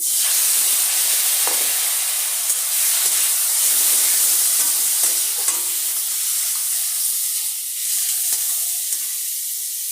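Lychees hit a hot pan with salt and turmeric for a sour lychee and mango dish, setting off a loud, continuous hiss of frying and steam, alone with no voices.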